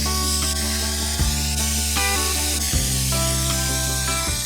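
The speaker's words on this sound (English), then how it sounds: "So we will spray." Aerosol spray hissing in a steady continuous burst onto a motorcycle seat while building a flat tracker seat, loud and close, with a sustained mechanical drone underneath and no talking.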